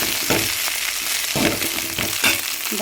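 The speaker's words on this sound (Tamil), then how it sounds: "இதை ஒரு வதக்கி சாம்பாரில் சேர்த்து தாளிச்சு பண்ண வேண்டியதான்" Agathi greens sautéing in a pan for sambar give a steady, broadband sizzle and crackle, with a few stirring scrapes rising out of it at intervals; no one speaks.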